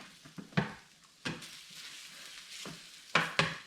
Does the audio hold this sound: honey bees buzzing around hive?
no